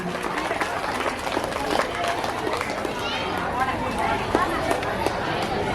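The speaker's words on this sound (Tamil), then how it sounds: "கைத்தட்டுங்க" An audience applauds steadily at a school annual day ceremony, with dense, continuous clapping and crowd murmur that hold at an even level throughout.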